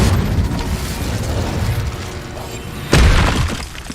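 Incendio fire spell cast in Hogwarts Legacy, a rumbling roar and crackle that builds and then bursts in one sharp, loud blast near the end before fading.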